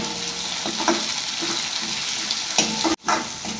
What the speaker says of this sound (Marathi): कांदा तेलात चांगला परतू द्यायचा, असा गोल्डन ब्राऊन होतो।